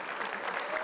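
Applause from an audience at a Hellboy Q&A session, a steady mid-level patter of many hands clapping together, filling the whole brief moment without any speech.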